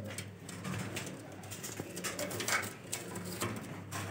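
Golden Kamagar baby pigeons give soft, low coos and faint rustles close by in a quiet setting in Lahore.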